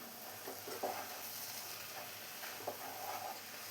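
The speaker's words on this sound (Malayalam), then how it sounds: "ഇനി ഇതെല്ലാം കൂടെ ഒന്ന് ഇളക്കി കൊടുക്കണം." Kerala-style semiya upma, vermicelli cooking in a pan, is stirred with soft, quiet scraping strokes over a faint continuous sizzle.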